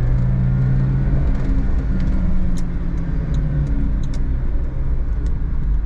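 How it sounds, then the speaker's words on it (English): A Suzuki Every Joypop kei van accelerates in third gear with four-wheel drive engaged, its engine droning steadily with a low rumble and whirring road noise from inside the cabin, constant and loud with no talk. "here's an acceleration test on four-wheel drive. Still gets up there, still has a great note"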